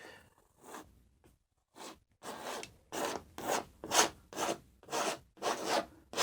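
A palette knife scrapes oil paint onto canvas in a series of rough, close strokes, about eight rhythmic swipes that grow louder toward the end, with no voice.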